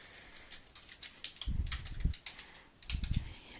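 Fingers type a short word on a computer keyboard while designing a card in cutting software: two quiet bursts of light, quick key clicks close to the microphone in an otherwise still room.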